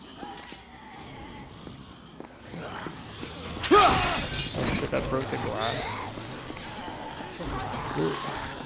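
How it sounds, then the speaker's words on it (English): Glass cracking and shattering in Dead Rising 3 during a zombie outbreak: one sharp, bright crash followed by crackling debris, with a person talking throughout. "Why is that glass just like breaking?"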